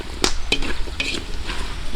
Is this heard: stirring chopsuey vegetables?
yes